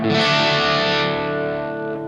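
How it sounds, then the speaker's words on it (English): An electric guitar played through a SMEER Riot distortion pedal set low for light dirt, a single sustained chord ringing loud and gritty, then slowly decaying. "SMEER Riot pedal, it's called. It's a distortion pedal."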